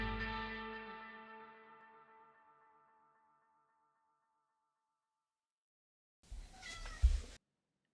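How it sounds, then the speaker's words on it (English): A single drawn-out cat meow, loud and close, that slowly fades out; after a long silence a short burst of rustling and a thump. "a little meow to get us started"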